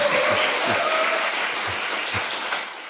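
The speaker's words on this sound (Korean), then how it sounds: "박수 한번 치셔야 될 것 같아요." Audience applause at a Korean political talk show taping, a steady wash of clapping from a studio crowd with a few sharper hand claps standing out, lasting a few seconds.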